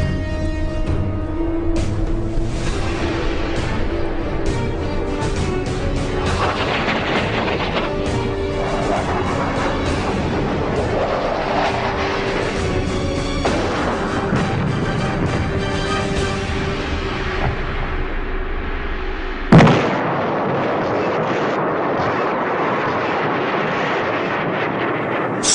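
Vietnam War aerial bombing gives a loud, continuous roar of blasts and aircraft rumble with crashing impacts throughout, then a sudden shift to another dense, steady stretch of explosive noise, with no talking.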